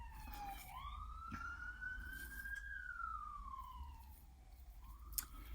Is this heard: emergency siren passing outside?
yes